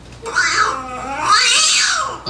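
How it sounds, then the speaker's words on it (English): A cat meow sound effect, used on a stand-up comedy show to mark the 60-second time limit, plays as one loud, drawn-out, warbling yowl rising and falling for about two seconds. "they know that they've hit that 60-second mark when they're doing stand-up by the meow of the kitty"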